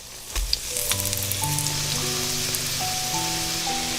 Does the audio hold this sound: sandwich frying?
yes